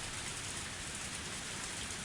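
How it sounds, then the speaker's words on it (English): Heavy rain pouring down steadily in a rural gravel-road setting, a continuous broadband hiss of drops striking the ground with no breaks and no voices. "The rain was still pouring, and it was getting darker and darker."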